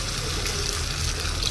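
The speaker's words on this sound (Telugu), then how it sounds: "నీళ్ళు పోతాము ఉడకడానికి" Water pours steadily into a pan holding radish pieces for rasam, a soft continuous splashing and trickle heard close up with no talking.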